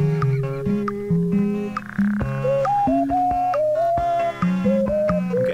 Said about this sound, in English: every single noise you can hear, is actually a bat call in this.